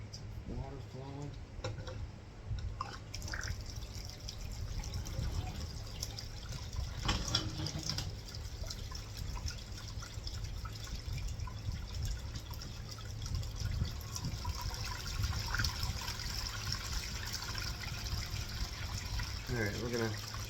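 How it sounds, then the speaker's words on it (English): Water flows steadily through a gold trommel during a test run, a constant low rushing wash with occasional splashes, while a person talks briefly nearby. "Water flowing."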